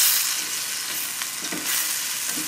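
Onions frying in a pan with tilapia and a little flour, giving a loud, steady close sizzle with a few soft stirring scrapes and no voices.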